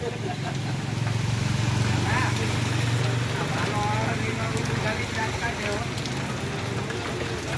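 Steady rain pours down outdoors as a dense, constant hiss and patter of drops on surfaces, fairly loud and unbroken, with faint voices in the background.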